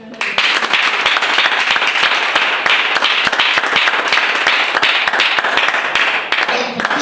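A church congregation applauds the Lord with dense, steady clapping that carries from start to finish, loud and close, with cheering voices mixed into the crowd noise.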